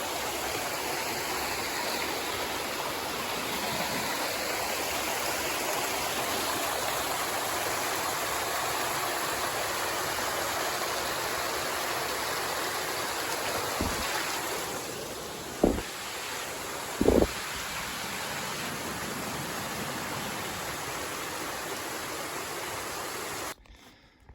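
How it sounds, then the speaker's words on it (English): Waterfall cascades along the Appalachian Trail in Tennessee give a steady broadband rush of falling water that holds for over twenty seconds, with a few short knocks near the end. "We have arrived at the Hardcore Cascades."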